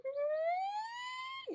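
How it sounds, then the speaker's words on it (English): A police siren sounds on a city street as a single rising electronic wail, faint and distant, lasting barely over a second. "I swear them sirens be screaming down the street"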